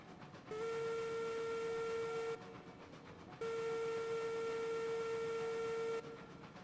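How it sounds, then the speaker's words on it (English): A Cooke Mogul steam locomotive in the Railroads Online train game sounds its whistle in two long, steady blasts, the second longer, loud and clear over a low background rumble. "I love that whistle."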